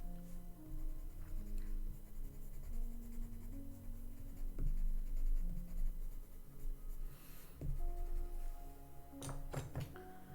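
Colored pencil strokes scratching across paper, a steady close scraping texture with occasional taps and soft thunks, no voice present.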